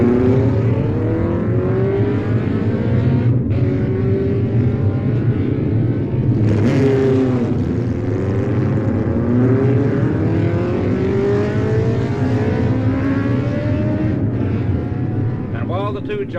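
Four-cylinder Italian MV racing motorcycles at the Isle of Man TT race sound as a sustained, loud, high-revving roar whose pitch climbs and dips as they pass at speed.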